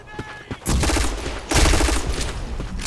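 Rapid automatic gunfire in the Black Squad video game, loud and close: a couple of isolated shots, then two long sustained bursts of fire that run nearly to the end.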